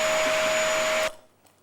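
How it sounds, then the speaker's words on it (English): A vacuum cleaner running loud and steady with a sustained whining drone, played as a name-the-sound quiz on a Jamaican morning TV show, then switched off abruptly, leaving near silence. "I was going to say a vacuum cleaner."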